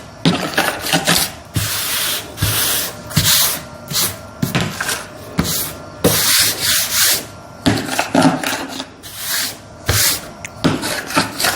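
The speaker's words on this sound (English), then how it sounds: "I'm just sanding both edges of the ring to where it's a flat, straight edge." Repeated rhythmic rasping strokes of sandpaper flattening the edges of a wooden ring, loud and close, in bursts of roughly one stroke per second with short pauses.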